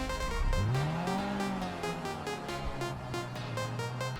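Dinka Jester Classic car in GTA Online driving with a steady engine drone that rises and holds in pitch, tyre noise underneath, loud and continuous with no talk.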